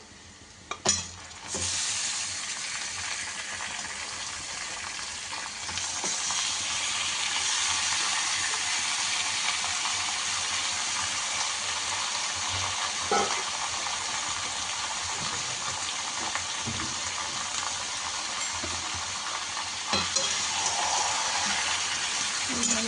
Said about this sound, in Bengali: এই অবস্থাতে এবার আমি ম্যারিনেট করে রাখা মাংসগুলো দিয়ে দেব